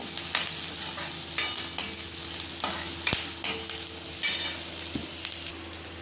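Chopped onion frying in a pan, stirred now and then with a spoon; a steady close sizzle runs under repeated scraping strokes, with no talking.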